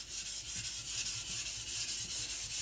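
A custom 52100 steel Chinese cleaver is drawn across a natural sharpening stone, giving quiet, even rhythmic rasping strokes that repeat several times a second, close and alone.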